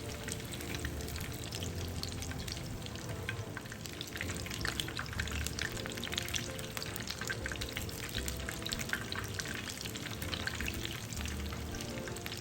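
Stuffed tofu with a potato and meat filling deep-frying in hot oil, a dense, steady crackle and bubbling that runs unbroken throughout at a moderate level, with no talk.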